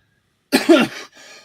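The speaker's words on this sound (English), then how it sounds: "had to clear your throat" Throat clearing by a man, one loud close rasping burst followed by a quieter trailing rumble, heard alone against silence.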